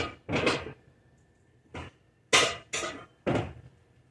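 Kitchen cookware being handled while fetching a cooking pot: a handful of separate clanks and knocks, close by, spaced irregularly with quiet gaps between them, no talking.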